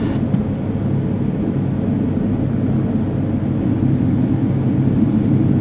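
An airplane crashing into the ground, captured by an onboard GoPro: a steady, loud roar of wind and engine rumble runs throughout, dense and low with no voices.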